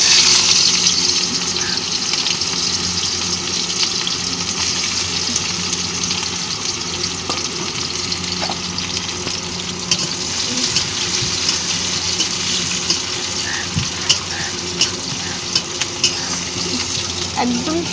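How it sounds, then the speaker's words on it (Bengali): Chopped onions fry in hot oil in a wok, giving a steady, loud, close sizzle and crackle that runs unbroken throughout, with no talking. "আর তেলটা গরম হয়ে গেছে। এবার দিয়ে দেবো হচ্ছে পেঁয়াজ কুচি"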